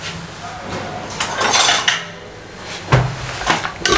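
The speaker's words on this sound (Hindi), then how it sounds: "अच्छे तरीके से इसको मैं मिक्स कर लूँ।" A metal spoon scrapes and clinks against a cooking pot while spices and water are stirred together for saag gosht, loud repeated knocks and clatters over a bubbling background.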